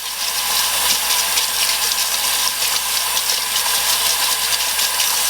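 Hot tap water runs steadily while excess Wonderfill is brushed away from a Locator R-Tx dental model, a continuous close gushing and splashing hiss with no talk.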